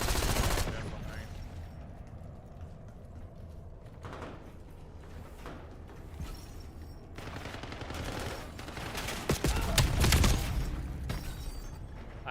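Rapid gunfire from multiplayer Call of Duty: Black Ops 7, with sustained bursts and single shots over a dense, noisy game mix, swelling loudest near the end amid booming impacts.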